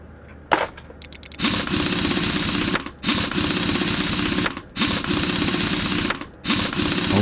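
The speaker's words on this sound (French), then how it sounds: "On remonte la roue." Wheel being refitted on a car in Car Mechanic Simulator 2021: rapid mechanical rattling bursts like an impact wrench running lug nuts, several loud runs of a second or two separated by short pauses, with no talking.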